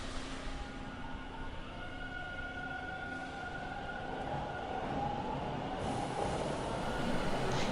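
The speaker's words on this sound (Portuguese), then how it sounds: "Aos poucos, o trem retorna ao movimento." Train rolling steadily along the rails, with a continuous rumbling wheel noise and faint high squeals that build gradually louder as it picks up motion; no talking.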